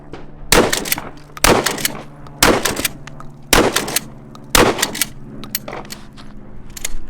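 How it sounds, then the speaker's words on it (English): Shotgun blasts firing buckshot at an outdoor shooting range, heard from about five yards away: five loud, sharp booms spaced roughly a second apart, each trailing off in a short echo. "Bomb's gonna shoot his shotgun"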